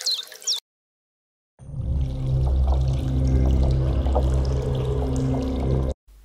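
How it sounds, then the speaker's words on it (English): A granular synthesis texture from the WaveCloud iOS app swells in after a short silence as a dense, rushing wash with a steady low drone and grainy flutter, continuous and fairly loud for several seconds before cutting off abruptly. "I'm going to go into textures and have a listen to a few of these textures"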